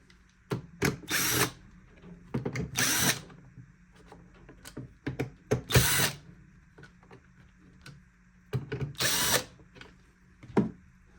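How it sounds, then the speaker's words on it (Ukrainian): An electric screwdriver backs screws out of the rear of a Roborock robot vacuum under repair, giving several short, close whirring bursts separated by quiet pauses and light handling clicks. "Також викручуємо гвинти, які ззаді."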